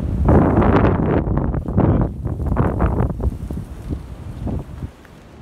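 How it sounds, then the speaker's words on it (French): Strong wind buffets the microphone in loud, rumbling gusts that rise and fall, easing off toward the end. "Et oui, il y a du vent."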